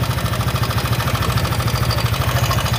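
Yamaha NMAX scooter engine running close by, a loud, even idle with a quick regular pulsing throb and no voices over it.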